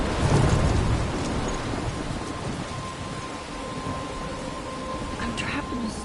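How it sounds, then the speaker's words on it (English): Heavy thunderstorm in the Life Is Strange video game: dense roaring rain with low rumbling thunder throughout, loud and close, with a faint steady tone running beneath the downpour. "I'm trapped in a storm?"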